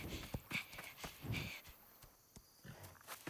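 A horse's hooves clop unevenly over a few seconds, several distinct knocks at moderate distance amid outdoor background noise, with no talking.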